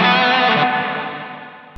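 An electric guitar chord played through an M-Vave MK300 multi-effects unit rings out drenched in splashy surf-style spring reverb, sustaining and slowly fading over a couple of seconds.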